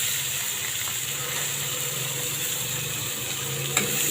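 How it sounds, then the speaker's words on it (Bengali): Onion fries in a pan of oil with a steady, close sizzling hiss and light stirring, with no voices over it. "এখন আমি পেঁয়াজটা ভেজে নেব।"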